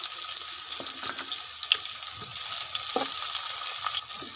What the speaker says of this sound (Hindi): घी गरम हो चुका है तो इसमें प्याज शामिल करेंगे।